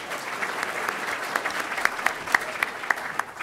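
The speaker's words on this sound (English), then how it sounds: "Give him a big round of applause" A room full of people applauds an academic panelist at a City of Chicago finances event, a steady crowd of clapping with a few sharper individual claps standing out near the end.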